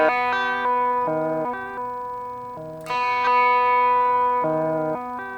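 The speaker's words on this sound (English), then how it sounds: "The delay time is controlled randomly, together with this blinking LED." Electric guitar run through a synth's randomly controlled delay, a series of picked notes and chords repeating in echoes at irregular intervals, steady and close with no voices.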